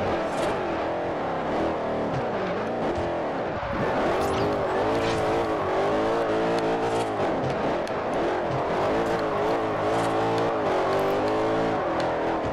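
A racing car engine in the video game Forza Horizon revs and whines steadily, rising and falling with gear changes, with tire squeal mixed in throughout.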